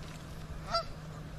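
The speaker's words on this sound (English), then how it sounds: "I think it's a Canadian goose." A single Canada goose gives one short honk at a park in San Jose, California, moderately distant over faint outdoor background noise.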